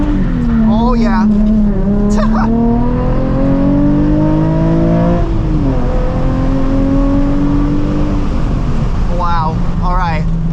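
Nissan 350Z HR engine revving hard through a drift, pitch rising and falling with sharp tire squeal bursts near the start and end, loud and close from inside the car, with a voice speaking over it.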